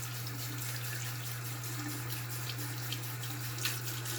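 Running tap water splashes steadily into a sink while hands are washed with soap, a continuous close hiss with a low steady hum underneath and no talking.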